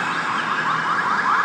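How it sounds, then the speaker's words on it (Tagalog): A wailing ambulance siren sweeps up and down steadily, loud and continuous, with no other sounds standing out. "Diyan, may ambulansya mga kaidol oh."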